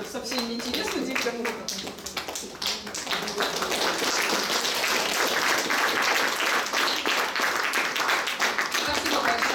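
An audience applauds after a lecture at an academic plenary session, starting under a voice and swelling into steady, dense clapping that fills the room and carries on to the end.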